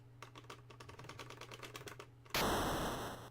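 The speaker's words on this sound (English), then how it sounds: "If you can hear this clicking, it's because I'm using an arcade stick" Rapid, steady clicking from an arcade stick's buttons and lever during play of the game Maniac Mansion, close and fairly even, cut off by a sudden loud burst of game noise near the end.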